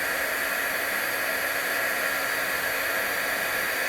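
A heat gun blows steadily on heat shrink tubing over an automotive wire repair, producing a constant, loud, even hiss of airflow that continues unbroken for the whole four seconds, with no speech.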